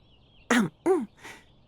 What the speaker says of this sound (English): coughed into her hoof